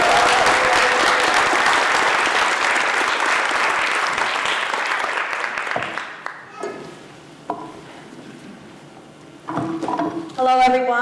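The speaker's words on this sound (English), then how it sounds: "Please give a warm round of applause to our panelists." A warm round of applause for panelists at a political summit, dense and sustained from a large audience for about six seconds, then dying away into scattered claps, handling noises and a few stray sounds.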